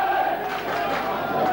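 Crowd at a 1987 rugby league stadium match between St Helens and Auckland, a dense continuous roar of many voices with rising shouts, heard at a distance beneath commentary.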